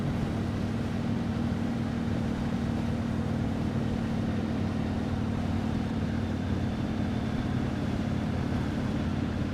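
Yamaha MT-01 SP motorcycle engine pulling away and cruising at just over 1,000 RPM on a road in Hakone, Japan, a steady low rumble with constant wind noise and no voices.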